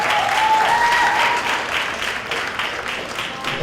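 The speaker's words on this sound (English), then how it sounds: "Let's give him a round of applause." Audience applause at a young adults church conference, a dense wash of clapping that is loudest at the start and then eases slightly while staying steady throughout.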